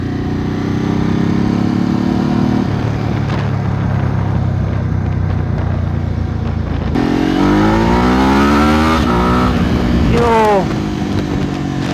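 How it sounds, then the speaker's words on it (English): A Ducati 999S motorcycle accelerating at full throttle from about 60 km/h, with a loud, steady engine roar and rising pitch through the gears under constant wind rush, heard from the rider's position. "let's get up to like 60 k's an hour and then just like freaking throttle open her and see what she does."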